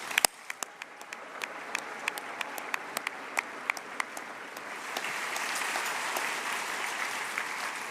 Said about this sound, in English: Please join me now in a round of applause for all of our sponsors.